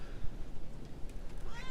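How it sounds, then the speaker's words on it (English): A cat meows outdoors near a house with gardens on a hillside, a short cry rising at the end over steady background noise. "Will you be quiet, you ratty old cat?"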